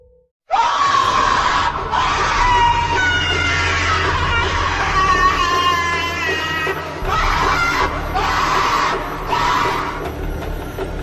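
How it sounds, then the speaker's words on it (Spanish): A long, harsh, inhuman guttural scream full of rage, loud and close, rasping and strained, sustained for several seconds with brief breaks. "Un alarido inhumano, gutural, lleno de rabia y algo mucho peor."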